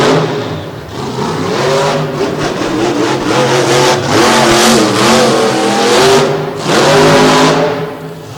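A Ford monster truck with a 557 cubic inch engine mounted in the back revs hard at an outdoor monster truck show. The engine roars loud and close, surging and easing repeatedly, with no talking.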